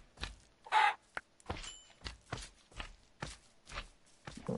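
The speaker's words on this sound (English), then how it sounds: "I need to kill this chicken." A chicken in the Minecraft video game clucks while a player closes in on it, short bursts mixed with a steady run of soft in-game footsteps, all clear and close with no talking.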